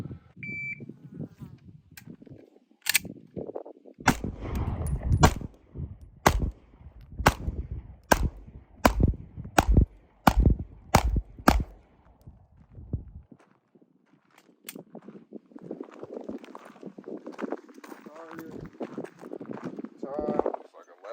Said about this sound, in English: I'm gonna stop at about 5 yards, taking about 8 to 10 shots.